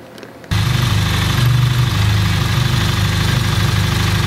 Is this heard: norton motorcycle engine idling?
yes